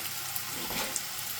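Ingredients toast in a hot pan at home, a soft, steady sizzle and crackle with a couple of small pops, close by and fairly quiet.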